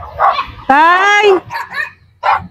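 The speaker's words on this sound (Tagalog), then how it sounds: "Aso." A dog barks close by in a few short, sharp, separate yelps, with one longer whining bark among them.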